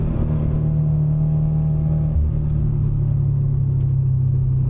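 Subaru BRZ track car on an F1 circuit, its engine droning steadily at close range with a sustained low rumble, the pitch dipping briefly near the midpoint before holding firm again.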